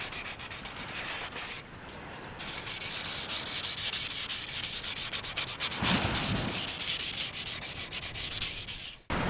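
Fine 800-grit sandpaper rubs back and forth along the trailing edge of a foil, a steady close-up rasping scrape with quick rhythmic strokes and a brief lighter pause, heard alone.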